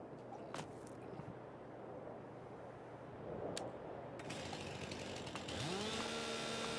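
A chainsaw in the farming game Farming Simulator 22 drones steadily in the background, rising in level partway through, with a rising whine joining near the end, and no talk over it.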